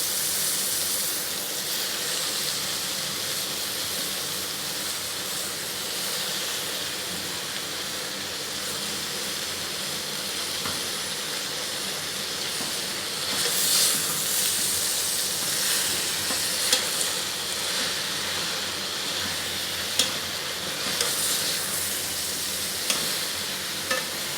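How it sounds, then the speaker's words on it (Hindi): Mustard greens (cholai saag) leaves stirred in a hot pot, giving a steady soft sizzle and rustle with occasional louder clinks and scrapes, close and continuous with no talking. "आप इसको मिक्स करते जाएं, थोड़ी ही देर में ये सॉफ्ट होके नीचे जाते जाएंगे"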